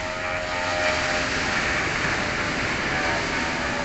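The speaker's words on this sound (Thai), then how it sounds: "นี่เราได้เห็นเครื่องบินขึ้นแล้ว" A Bangkok Airways airplane takes off at Phuket airport, heard from the nearby beach as a loud, continuous broadband jet roar that holds steady throughout.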